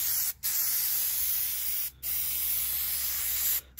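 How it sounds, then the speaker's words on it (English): Aerosol can of Plasti Dip sprayed onto the chrome roof rails of a 2015 Jeep Grand Cherokee Diesel 3.0, three long steady hissing bursts separated by brief pauses, close and loud. "So now I'm just gonna start spraying it."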